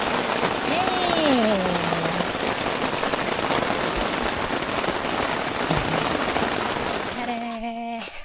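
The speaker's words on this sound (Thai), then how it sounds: "ฝนตกหนักมาอีกระลอกนึง" Heavy rain pours steadily in a dense, hissing patter at a lakeside campsite on Lake Superior, Michigan, with a few gliding voice-like tones and brief sounds breaking through near the start and end.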